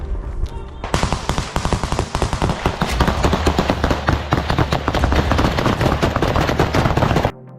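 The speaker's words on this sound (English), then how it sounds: "Several Russian soldiers engage in close combat, opening fire." Close-quarters trench fighting between Russian soldiers and Ukrainian forces: loud, dense gunfire in rapid automatic bursts that crack nearby almost without pause for about six seconds, then cut off abruptly.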